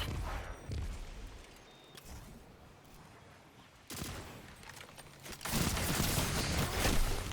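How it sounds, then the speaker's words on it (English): Gunfire bursts out in the Destiny video game, a shotgun among the shots, with a sharp blast near the start, quieter stretches, then dense loud firing toward the end. "Yeah, and then a shotgun."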